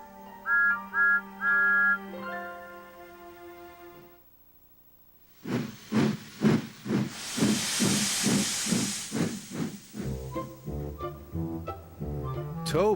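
A cartoon steam engine from Thomas & Friends lets out a loud burst of pulsing steam hiss, chuffing in a quick rhythm, after tonal whistle notes and before music resumes.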